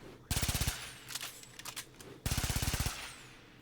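Baza Prime rifle firing in Warframe: two rapid full-auto bursts of about eight crisp shots each, with a few faint clicks between them.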